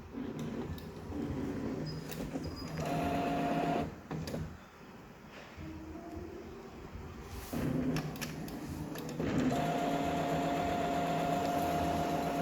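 A Brother DCP-T710W printer whirs and clunks through its print-head cleaning cycle, motors starting and stopping with clicks and shifts in hum, fairly close and without talking.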